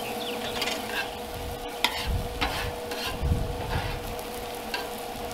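Mushrooms and onions sauté in a pan for loco moco gravy, a soft constant sizzle punctuated by a few tossing scrapes and clanks of the pan, close up with no speech.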